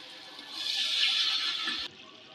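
A little water is poured into a pan of ground coriander, salt and spices for beef biryani, giving a soft rushing pour that swells for about a second and then stops abruptly, with no talking.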